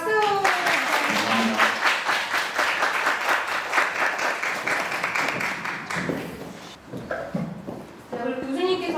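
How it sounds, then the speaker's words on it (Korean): An audience at a college chapel service applauds a guest professor, with steady clapping that tapers midway. Voices speak over the applause at the start and again near the end. "박수!"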